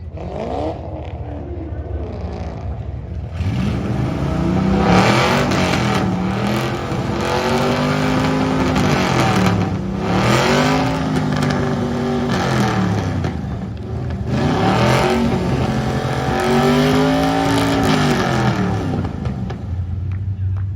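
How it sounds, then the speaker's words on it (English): A Ford Mustang II's engine at a Mustang II reunion car show, loud and close, revving up in repeated rising and falling bursts over a constant rumble. "Next up, we got Edwin Knutson Jr. Mustang II, representing for Mustang II Reunion VII"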